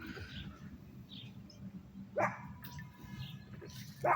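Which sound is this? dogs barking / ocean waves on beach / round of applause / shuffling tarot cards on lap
dogs barking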